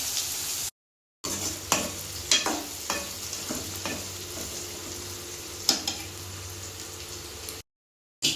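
Garlic and coconut for a country chicken curry sauté in a pan, a soft steady sizzle under scattered scrapes and taps of stirring, with brief silent gaps near the start and end.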